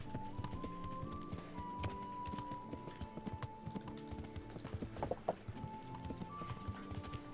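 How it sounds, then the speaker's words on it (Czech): A horse's hooves clip-clop in the medieval video game Kingdom Come: Deliverance, with a brisk, uneven rhythm of close thuds over faint sustained game tones and a quiet background. "Kde je ten dementní kůň zas?"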